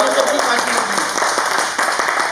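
A meeting audience applauds together, a steady wash of clapping lasting throughout, with a voice speaking over it near the start.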